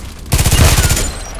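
Automatic gunfire in the shooter game Contract Wars: a rapid, loud burst of closely spaced shots lasting about a second, up close.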